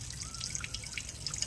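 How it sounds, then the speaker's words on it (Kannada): Dirty water drains out through the bottom of a household water tank being cleaned. Faint, quick drips and trickles patter irregularly over a low background rumble. "ನೋಡಿರಿ. ಬುಡಕ್ಕಿಂದು ಹೊಲಸಿನ ನೀರು."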